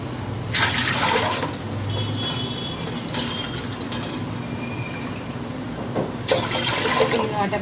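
Water being poured into a pot to make semolina kurdai, a close gushing splash in two bursts at the start and near the end, over a steady background hum, with no talking.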